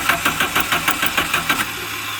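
A 1989 Shelby Daytona engine running on starting fluid, close up, with a fast, even chugging pulse of firing strokes and a rough mechanical rattle.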